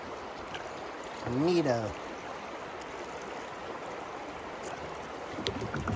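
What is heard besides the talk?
fast-flowing river water around a kayak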